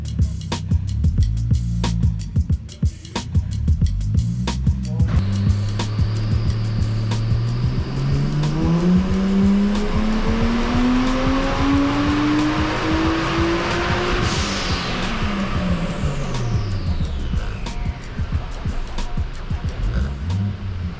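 A Toyota Crown's 1JZ VVTi engine revs up under load on a dyno with the full exhaust fitted, its steady tone rising over many seconds to a high peak, then dropping back, loud and continuous throughout.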